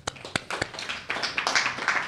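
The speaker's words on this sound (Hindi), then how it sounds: "बहुत अच्छा भाई, तालियां।" A small group claps briefly for about two seconds, a few sharp, fairly close claps merging into a light, uneven patter.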